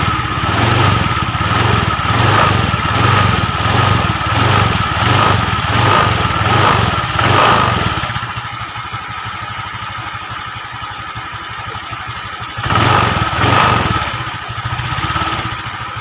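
A car engine is revved while its water pump seal is checked for leaking: a loud, steady engine drone drops to a lower rumble, then rises again in a brief rev.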